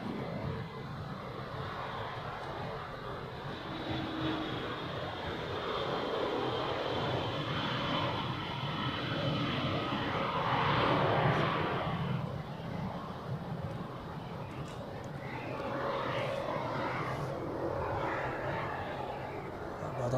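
A United Boeing 767 heavy jet in old livery taxis for departure toward runway 32 at Zurich Airport, its engines a steady, moderately distant roar with a faint whine that swells slightly midway, with no talk.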